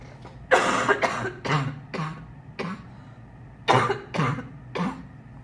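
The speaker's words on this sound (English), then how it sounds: "Sorry for all the coughing" A person coughs about seven times in short, hoarse bursts close to the microphone, with brief gaps between them and no other sound.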